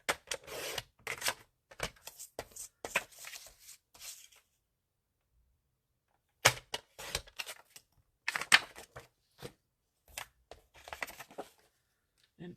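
A piece of cardstock is cut to 4 by 5 1/4 for a handmade card: crisp, dry rasping cuts come in short bursts, with a long quiet gap before a few more close strokes.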